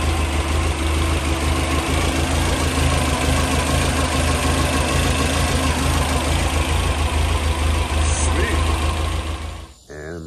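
Car engine with a 3TC gear drive installed idles inside a garage, a loud, steady mechanical drone with a busy whine on top that holds constant before dipping briefly at the end.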